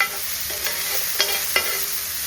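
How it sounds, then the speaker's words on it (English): Food sizzling in a hot pan with a constant crackling hiss, broken by a few sharp scrapes and clinks of a utensil stirring. "We're just going to let this sizzle down before we wrap it up."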